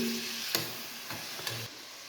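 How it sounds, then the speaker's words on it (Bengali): Meat fries in oil, with a quiet sizzle broken by a few short scraping stirs. "আমি একটু মাংসটা আগে তেল দিয়ে করে নিতেছি, ফ্রাই করে নিতেছি"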